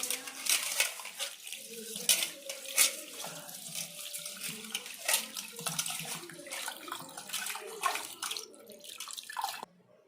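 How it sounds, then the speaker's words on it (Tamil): Rice being washed by hand in water for chicken biryani, with steady splashing, sloshing and running-water sounds close by, broken by brief louder swishes, and no talking. "அரிசி கழுவி நல்லா எடுத்தாச்சுங்க"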